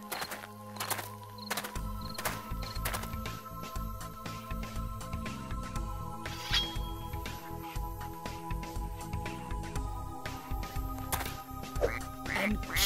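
A cartoon goose in a barn gives repeated honking calls over a busy musical backing, the honks coming in quick irregular bursts throughout.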